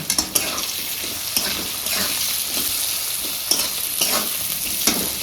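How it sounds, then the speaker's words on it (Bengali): Greens with salt and turmeric being stirred in a frying pan, a steady sizzle broken by repeated scraping strokes of a spatula against the pan, close and with no talk. "এবার আবার ভালো করে একটু নাড়া দিয়ে দেবো।"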